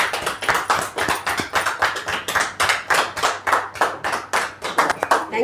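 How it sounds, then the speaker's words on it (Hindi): An audience at a Hindi training seminar claps in welcome, a crisp, irregular burst of many hands that continues steadily throughout with no voices over it. "जोरदार तालियों के साथ आप स्वागत कीजिए।"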